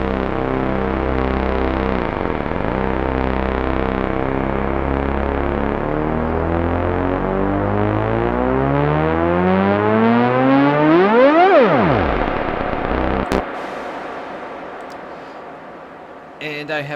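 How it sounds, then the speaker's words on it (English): A buzzy synth tone with rich harmonics slowly bends upward in pitch, then swoops sharply down before fading into a hissy tail. "it sounds like someone's tweaking the pitch on a synth"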